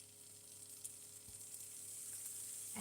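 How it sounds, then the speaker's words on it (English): Arayes frying in a pan, a faint, steady sizzle and crackle with a couple of soft bumps, no talking. "And let me just fry this a while more"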